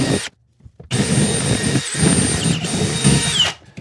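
A power tool bores into a wooden floor joist during a bathroom plumbing remodel. A short loud burst stops, then after a brief pause it runs steadily and close for about three seconds, grinding and whirring.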